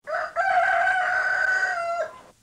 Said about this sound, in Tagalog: Simple na, mga cliché na rooster.